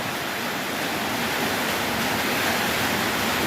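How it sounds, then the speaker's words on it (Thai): Dense, steady hiss of heavy rain pouring without pause around a house, broadband and loud, with no voices over it. "อันนี้ฝนก็เริ่มซาลงแล้วครับ"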